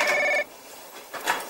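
A landline-style telephone bell rings in a short burst, a bright repeated electronic trill that stops abruptly, heard in an indoor scene of a Chinese crime drama, followed by faint room noise.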